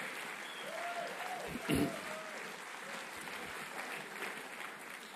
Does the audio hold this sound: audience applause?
yes